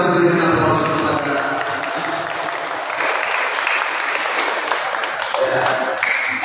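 Steady applause from a congregation at a Catholic wedding mass, dense and even throughout, with a brief voice at the start.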